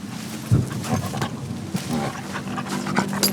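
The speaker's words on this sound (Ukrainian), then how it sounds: "Собаки." Dogs panting close by with quick, rhythmic breaths and occasional whimpers and snuffles, fairly loud and continuous through the moment.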